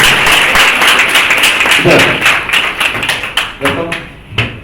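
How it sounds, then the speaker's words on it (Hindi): Loud, uneven clapping from a business seminar audience, with distinct individual claps and thumps that thin out toward the end as a voice briefly sounds. "आपके जोरदार ताली होनी चाहिए, जबरदस्त।"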